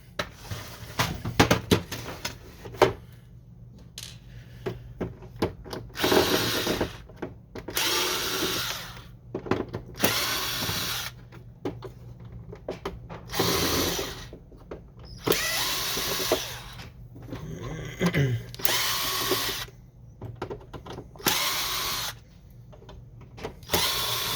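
A power drill repeatedly whirs in short bursts while it backs screws out of an HP Officejet 4650 printer's scanner unit, roughly eight runs spaced by brief pauses and small handling clicks, close and fairly loud.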